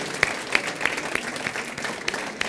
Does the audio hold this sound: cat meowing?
no